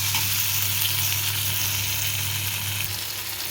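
Ginger and green chilli paste sizzles steadily in a hot pan for plantain curry, a loud, continuous close frying hiss with a low hum underneath and no pauses.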